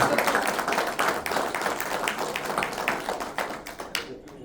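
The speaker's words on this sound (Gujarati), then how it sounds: "જોરદાર તાળીઓ થઈ જાય મારા માટે" An audience at a talk show claps together, a loud dense burst of applause that gradually thins to scattered claps and fades out.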